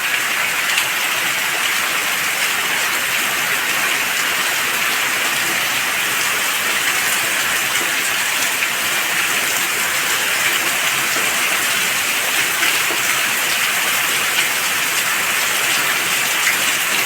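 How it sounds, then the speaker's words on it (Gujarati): A heavy downpour over village yards and fields after days of continuous rain: a loud, even roar of dense rainfall, steady and unbroken throughout, close by and with no voices. "પાછો ફૂલ વરસાદ આવી ગયો."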